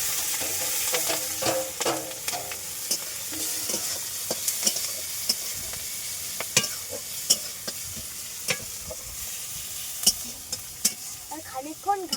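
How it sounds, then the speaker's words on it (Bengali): Onion, garlic and chili frying in a little oil in a pan, a steady sizzle broken by sharp scrapes and knocks of a spatula stirring, close and continuous with no talk. "পেঁয়াজ রসুন লঙ্কা অল্প তেলে এবার ভেজে নেব।"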